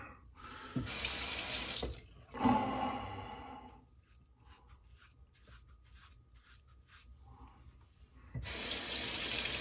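Running water from a tap rinses a shaving razor over a sink, loud and steady in two bursts at the start and a long stretch at the end, with quieter drips and handling noises between.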